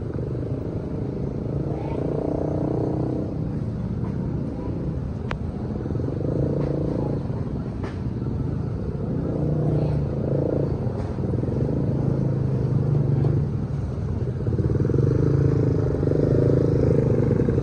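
Street traffic with motorcycles, including a Yamaha Mio, and cars such as a Honda Brio passing on a busy road, a steady loud engine rumble and clatter that rises and falls throughout.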